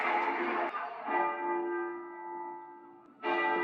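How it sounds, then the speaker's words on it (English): A church bell rings twice with loud clanging strikes, each one leaving a long, slowly fading hum before the next. "The bell is ringing for a new king, I'd imagine."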